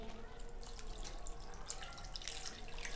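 Water is poured from a jug onto washed beef for steaming, a faint, soft splashing trickle heard quietly and close, without talk.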